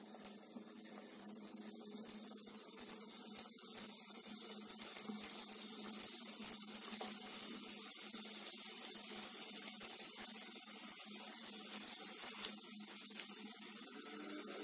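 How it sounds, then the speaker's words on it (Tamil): Gulab jamun balls deep frying in hot oil, a steady, even sizzling hiss with fine crackling bubbles, close and moderately quiet, continuing unbroken with no talk. "இப்ப எல்லா குலாப் ஜாமுன் உருண்டைகளையுமே உள்ள சேர்த்து பொரிச்சு எடுத்துடலாம்."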